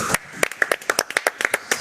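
A few people clap in a small studio setting during a football talk show, producing sharp, distinct claps in an irregular, slightly uneven rhythm, about fifteen in quick succession.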